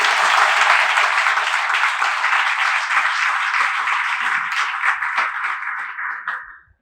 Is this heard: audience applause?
yes